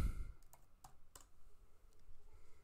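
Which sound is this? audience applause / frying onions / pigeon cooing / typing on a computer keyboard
typing on a computer keyboard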